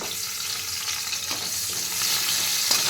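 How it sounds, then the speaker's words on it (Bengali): Pointed gourd tops sizzle and crackle steadily in hot oil in a pan, a continuous close frying hiss with a few small pops and no voices. "পটলের মাথার যে অংশটা আমি কেটে রেখেছিলাম সেটা তুলে দিলাম তেলে এটাকে একটু আমি ভেজে তুলে নেব"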